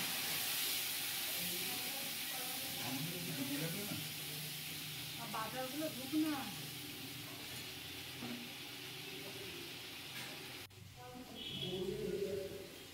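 Fish and spices sizzling in a pan with a splash of water while being sautéed for a Bengali mango-rohu curry, a steady hiss with faint stirring clinks beneath it.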